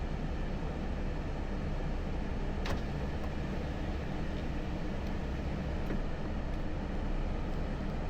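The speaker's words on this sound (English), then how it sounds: "Let's take a little drive over the riverbed down to where we're going to be doing most of the work today." A vehicle drives across a dry riverbed near Ross River Resort, producing a constant, fairly loud engine and tyre rumble throughout, with a few faint clicks and knocks over it and no talking.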